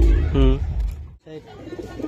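Oman bloodline pigeons cooing at close range, a couple of low rounded calls near the start with softer cooing later, alongside someone talking.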